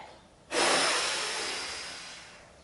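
Children in a kids' yoga class give a single long, strong blow of breath that starts abruptly and trails off slowly, heard up close with no talk.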